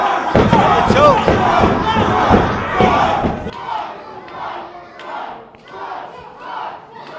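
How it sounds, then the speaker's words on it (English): Wrestling event crowd chanting a wrestler's name in a rhythmic, loud roar with thuds from the ring, then fading into softer repeated chanting with a commentator talking over it. "the crowd chanting Troy's name"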